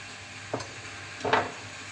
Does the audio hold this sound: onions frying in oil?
yes